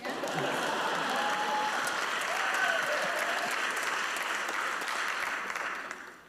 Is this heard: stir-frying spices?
no